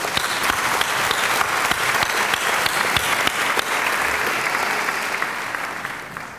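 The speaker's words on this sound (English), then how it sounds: "let's give her a round of applause" A hall full of people clapping at the 2011 Heinz College diploma and awards ceremony, a steady, fairly loud round of applause with distinct nearby claps that thins and fades toward the end.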